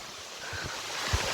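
Water pouring down Suruli waterfall makes a continuous broad rushing roar at close range, with faint low thumps beneath it and no voices.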